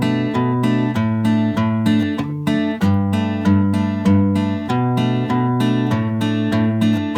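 An acoustic guitar steadily fingerpicks a chorus in an even, repeating pattern of plucked bass notes and chords, close and clear with no voices.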